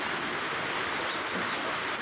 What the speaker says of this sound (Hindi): बारिश काफ़ी तेज़ हो गई है।